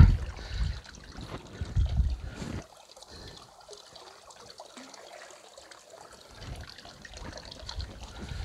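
Liquid trickles and splashes into koi pond water at close range, heavier at first, then settling into a softer, steady gentle pour.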